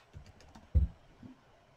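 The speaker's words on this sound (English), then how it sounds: "I'm going to type in right. Instead of left, I'm going to type in right again." A few soft keystrokes on a computer keyboard while entering code, one firmer tap in the middle, quiet and close with no talking.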